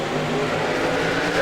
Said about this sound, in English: There's the green flag. We're back underway here at Atlanta Speedway, and a good restart here for Nicholas Shelto